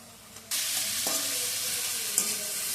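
Capsicum, beans and carrot frying in a pan for egg rice, a steady loud sizzle that jumps up suddenly, with a few stirring scrapes over the continuous hiss.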